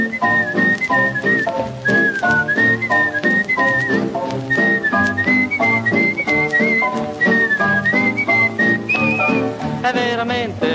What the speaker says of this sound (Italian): adesso invece vuol fischiare il boogie boogie